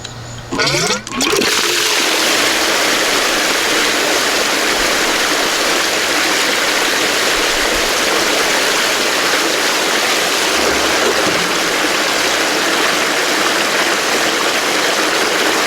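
Water rushes hard and continuously through a Gold Hog Piglet sluice after a brief start-up, a loud, steady roar of flow sustained to the end with no pauses.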